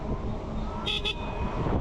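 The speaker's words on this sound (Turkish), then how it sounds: "Kornamızı çaldık." A car horn gives two quick toots amid a steady rumble of nearby traffic and engine noise.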